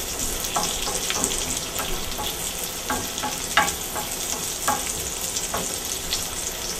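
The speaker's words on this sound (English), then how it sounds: "Now this sautés so everything gets nice and tender." Garden cherry tomatoes sauté in a pan with a constant close frying hiss, broken by scattered soft pops and small bursts as the tomatoes cook.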